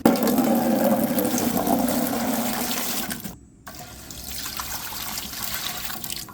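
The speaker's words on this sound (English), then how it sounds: "3 quarts of water into the canner." Three quarts of water pour into a pressure canner in a loud, steady gush for about three seconds, then drop away to a quieter trickle.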